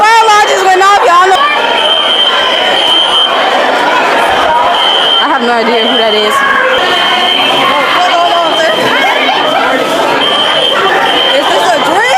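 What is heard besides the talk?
school fire alarm ringing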